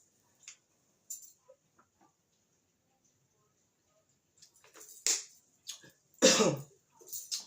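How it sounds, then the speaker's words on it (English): A few scattered coughs and throat-clearing sounds, quiet at first, then louder bursts of harsh coughing close to the microphone. "Had a coughing attack there"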